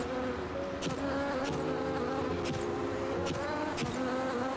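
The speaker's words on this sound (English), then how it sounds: "There's a lot of bees in this level" Bees buzzing steadily in a video game level, a dense, continuous droning hum with several overlapping tones, close and even in loudness, broken by soft periodic clicks and no speech.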